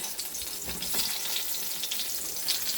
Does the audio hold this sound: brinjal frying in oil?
yes